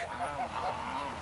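Brant goose honks ring out in a steady, busy stream, fairly close and continuous, with other waterfowl noise mixed in.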